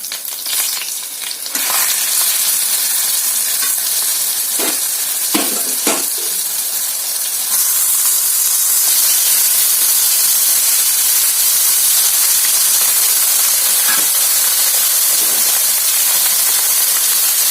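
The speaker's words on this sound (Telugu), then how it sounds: "బీరకాయ ముక్కలు అయితే వేసేసుకున్నాం" Ridge gourd pieces fry in a pan with a steady, loud sizzling hiss that runs unbroken throughout, and a few brief stirring knocks come near the start.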